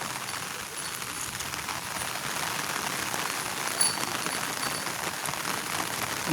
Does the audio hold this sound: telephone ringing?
no